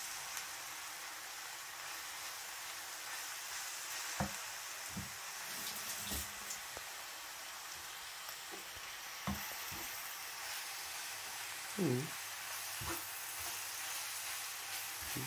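Food sizzles in a large frying pan, a steady soft frying hiss that carries on quietly for fifteen seconds, broken now and then by a few clinks and stirring knocks of a utensil against the pan.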